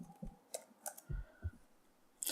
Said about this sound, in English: I'm going to the command prompt and typing Java -version.